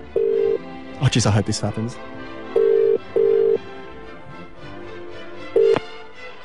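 A telephone call to the King Edward VII Hospital, with steady ringback tones pulsing in several bursts and a short burst of dialing or line noise, while a voice talks over part of it.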